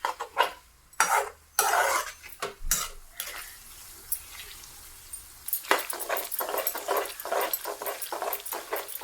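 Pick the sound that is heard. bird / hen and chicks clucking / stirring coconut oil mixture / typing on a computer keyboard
stirring coconut oil mixture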